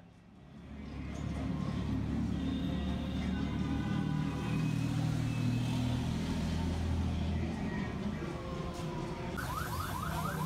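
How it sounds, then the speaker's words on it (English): Army convoy driving past on a Baghdad street at night, a steady loud rumble of heavy vehicle engines and traffic that holds through the whole stretch, with a faint siren-like tone rising near the end. "An army convoy is driving by, just as usual."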